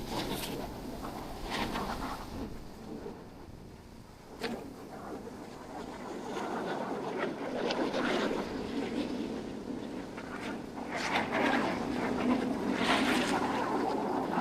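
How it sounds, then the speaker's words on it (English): Wind blowing on a rocky coast during rock fishing near pink caves, a steady gusty roar buffeting the microphone with surging rushes and faint thumps throughout. "The wind is actually not doing me any favours now that I've moved a little bit."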